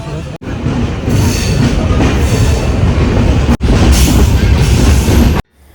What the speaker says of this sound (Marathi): आणि ट्रेन आता सुटली आहे खेड स्टेशनवरून.